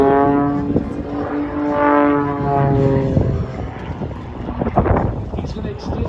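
An aerobatic propeller plane performing at the Great State of Maine Airshow, its engine droning with a shifting pitch as it passes, mixed with wind buffeting the microphone and a commentator talking over it.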